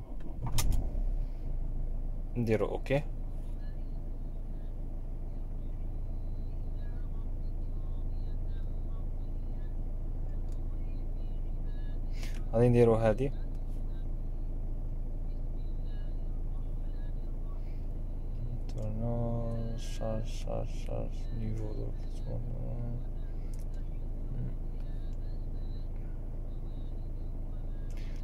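Diesel engine of a Mercedes W204 with the OM651 engine idling during a particulate filter regeneration, a steady low rumble throughout, with someone speaking over it and a few clicks and knocks.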